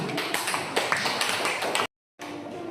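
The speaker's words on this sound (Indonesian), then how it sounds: "Tepuk tangan" A group at a teacher coaching session claps steadily for a participant in a dense, continuous burst of applause that cuts off abruptly, followed briefly by more clapping.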